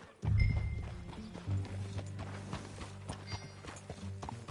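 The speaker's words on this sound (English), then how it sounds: "Get on your horse" Horse hooves gallop in the video game Red Dead Redemption on PS5, a loud rhythmic clip-clop close by with creaking tack and soft game ambience and no speech.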